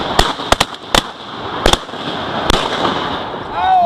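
Shotgun blasts during a duck hunt at Reelfoot Lake, five or six sharp, loud reports fired in quick irregular succession outdoors, each with a short ringing decay.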